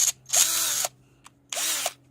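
Einhell TE-CD 18-volt cordless drill runs in two close, loud bursts of motor whine, each rising and settling in pitch, with a short click between them and no talk.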